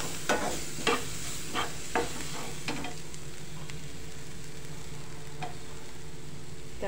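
Three or four green chillies sizzle steadily in a pan for a Maharashtrian misal, with a spoon scraping and clinking against the metal in irregular strokes over the continuous frying.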